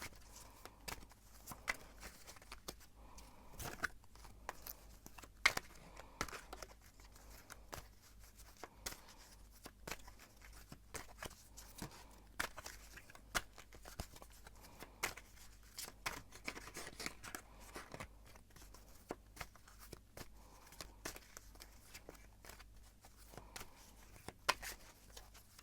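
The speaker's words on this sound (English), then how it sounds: "I'm gonna shuffle a little bit more." A deck of tarot cards being shuffled by hand, a long run of faint, quick papery flicks and taps at an uneven pace, close but quiet, with no talking.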